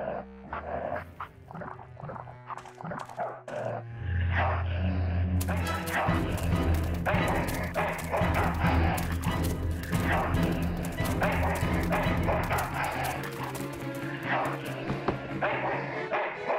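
Dogs barking in Full Throttle Remastered, a burst of sharp yaps and bow-wows over game music and noise, with someone speaking in the scene.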